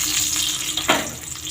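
Sliced pointed gourd and potato pieces drop into hot oil already spiced with whole cumin and bay leaves, giving a sudden loud hiss and sizzle near the end of a steady frying crackle.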